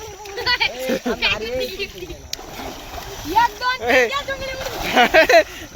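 People jump into water with friends while swimming, each leap making a close splash and sloshing amid loud talk and laughter.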